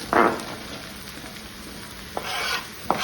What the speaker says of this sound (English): we're going to go ahead and add our mushrooms and carrots here